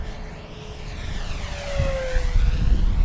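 An FMS P-40B Flying Tiger RC model plane with a 980mm wingspan makes a high-speed pass at full throttle, its electric motor whine rising and sweeping past with a Doppler pitch drop, loud and alone.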